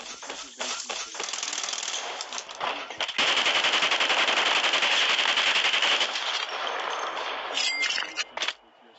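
Rapid gunfire from a shooting video game rattles in dense automatic bursts, close and loud for several seconds, with brief pauses between strings of shots.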